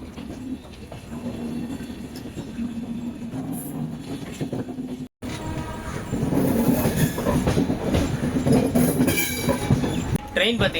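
A passenger train pulls out of Chennai Central station, heard from aboard with steady rumbling, rail clatter and occasional wheel squeal that grow louder partway through; a brief dropout interrupts it, and faint voices murmur underneath.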